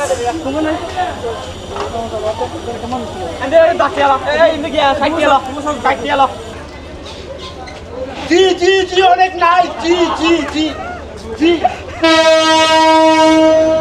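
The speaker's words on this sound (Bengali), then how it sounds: "এই যে ট্রেনটা আপনাদেরকে দেখাচ্ছি" Saikat Express train at a railway station on the Chattogram to Cox's Bazar route, loud rumble and hiss with crowd voices and talk throughout, ending in a sustained blaring horn.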